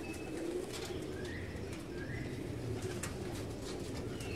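High-flying pigeons coo softly and repeatedly in a quiet outdoor setting, with faint chirps and a low background hum.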